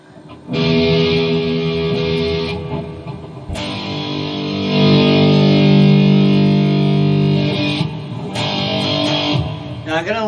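An electric guitar with a single bridge humbucker pickup plays a heavily distorted metal tone, with loud sustained chords that ring, stop and restart across several phrases, and no talking.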